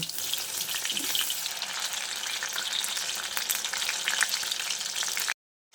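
Battered eggplant slices fry in hot oil for a vegetarian dish, giving a dense, steady crackling sizzle that runs close and loud without a break, then cuts off suddenly near the end.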